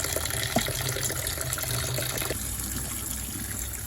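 Shelled white and purple corn kernels rinsed under running water make a steady splashing gush with a faint trickle, close and continuous, a few light clicks mixed in; no one speaks.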